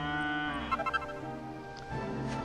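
A cow moos in Dragon Quest 8, a drawn-out low lowing laid over steady game music, with a few short bursts in the middle and a brief bump near the end.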